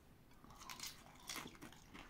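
Crunchy food bought at an unstaffed Japanese shop is bitten and chewed close up, two distinct crisp crunches followed by quieter chewing, with no talk over it.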